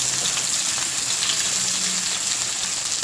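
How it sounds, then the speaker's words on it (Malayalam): Dried red chillies and chopped small shallots sauté in hot oil for a quick tomato curry, a constant close crackling hiss of frying, no voices. "നമുക്ക് ഇതിനകത്തേക്ക് വറ്റൽമുളകും ചെറുതായിട്ട് അരിഞ്ഞിട്ടുള്ള ചെറിയ ഉള്ളി നമുക്ക് വഴറ്റിയെടുക്കാം"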